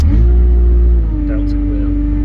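A tractor engine on a farm during muck spreading rumbles loudly and close as the machine drives forward, its low drone shifting slightly partway through with no talk over it.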